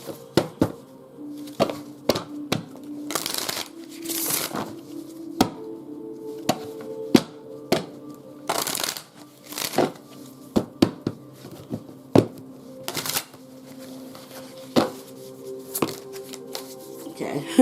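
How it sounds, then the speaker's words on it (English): A deck of cards being shuffled, a series of quick riffling bursts and sharp taps scattered irregularly over a quiet background, with a low tonal hum running beneath. "shuffle these real good"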